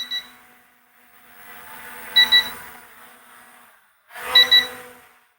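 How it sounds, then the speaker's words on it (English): An E88 Pro drone's low-battery warning sounds as two paired high-pitched beeps, each pair clearly spaced a couple of seconds apart over a soft whirring hum of the rotors indoors. "It's beeping."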